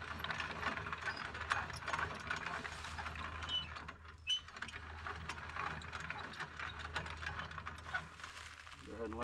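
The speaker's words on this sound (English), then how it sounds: "Next step is lower the winch." HME hitch hoist winch being lowered from a truck hitch, a continuous ratcheting mechanical clatter with gear whir, steady and moderately close for several seconds with a brief lull midway.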